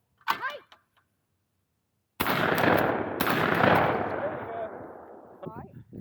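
Shotgun firing at thrown clay targets outdoors, two loud close blasts with a long rolling echo trailing off, after a brief voice calling out at the start.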